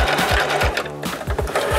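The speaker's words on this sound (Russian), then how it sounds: "Выполняем строчки закрепочками." A sewing machine stitches mitten ears with backtacks, its needle rattling in fast, close bursts that break off briefly before running again.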